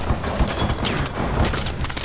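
Rapid automatic gunfire from a fast-firing weapon in the video game Call of Duty Advanced Warfare, played multiplayer on PS4, sounding as a dense, continuous burst of shots with booming low thuds throughout, loud and close.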